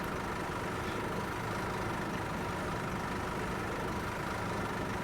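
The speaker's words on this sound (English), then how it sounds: "hold it in for a second or so, and then that starts the engine" A bus engine idles in The Bus driving simulator game, giving a steady, continuous low rumble with no voices over it.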